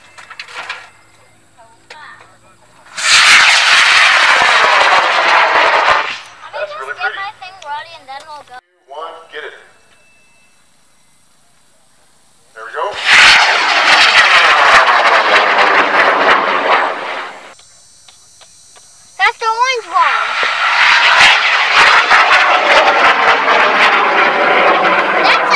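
A Purple Nebula model rocket launches at a high-power rocketry event with several loud, roaring whooshes that burst in and fade. Quieter gaps fall between them, and people talk in the background.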